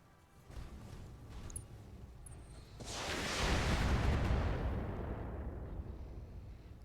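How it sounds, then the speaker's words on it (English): Incendiary missiles exploding in the mech combat game Battletech: a swelling roar of blasts builds into a dense, deep rumbling explosion that holds loud for several seconds before easing off slightly. "Those incendiary missiles."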